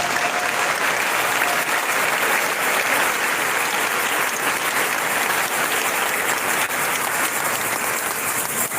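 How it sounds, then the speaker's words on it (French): A church congregation at a Saturday service at Saint Dominique applauding and cheering for the Lord, dense sustained clapping from a large crowd filling the whole stretch at a steady loud level. "Tu peux acclamer pour le Seigneur."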